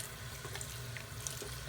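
Steady rush of tap water running over a bunch of human hair being washed together in a sink, an even splashing hiss throughout, close and with no talk.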